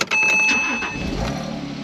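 A Porsche Boxster S 987.2 engine cranks and catches, revving briefly before settling into a steady idle, loud and close.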